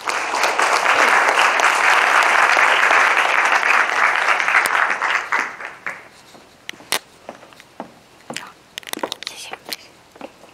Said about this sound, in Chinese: 以最热烈的掌声来欢迎